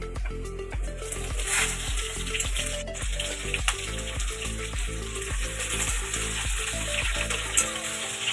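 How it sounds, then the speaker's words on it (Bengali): Vegetables and chopped ginger fry in oil with a loud, dense, continuous sizzle, close up, over a rhythmic low thumping pulse in the background; no talking. "তেলের মধ্যে দিচ্ছি আদা কুচানো এখন ভাজা হয়ে গেছে এবার আমি একে একে সব সবজিগুলো ছেড়ে দেবো"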